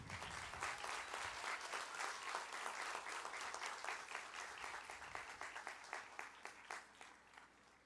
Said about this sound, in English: everyone, please give a warm round of applause for Renee